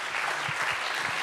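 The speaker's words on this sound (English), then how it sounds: "I would like to give our speakers a big round of applause" Conference attendees at a panel on electric mobility give the speakers a dense, even round of applause, filling the short moment with steady clapping.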